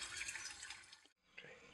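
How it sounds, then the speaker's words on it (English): Spring water runs continuously through an overflow pipe in a grazed field, a faint splashing trickle that briefly drops out before resuming. "It's catching spring water and then piping it away through this overflow pipe."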